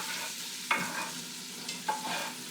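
Carrots and onions sizzle steadily in a pan, a continuous hiss broken by two short stirring scrapes.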